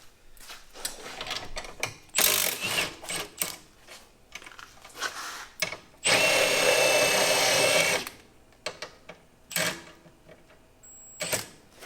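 A power tool works on car sway bar bolts during an MQB suspension install, sounding in several loud bursts of whirring and rattling with one longer sustained run, separated by quieter clanks and handling noise.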